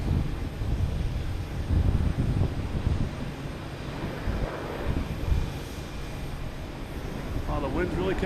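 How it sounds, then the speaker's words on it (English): Strong gusts of wind buffet an outdoor microphone at Boston Logan Airport, producing rough, uneven low rumbling bursts over a continuous background drone of aircraft noise. "Oh, the wind's really kicking up all of a sudden."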